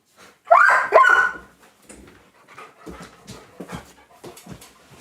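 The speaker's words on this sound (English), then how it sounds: "So stream has been invaded by a dog." A pet dog vocalises close to the microphone during a live England v Slovakia Euro 2024 watchalong stream, giving a couple of loud whining yelps followed by softer panting and whimpering noises.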